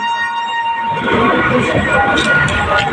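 A train pulls out of Kalyani station on its run from Sealdah, starting from a quieter tone-laden hum and building into a loud, continuous rumble of rolling wheels and rattling carriages.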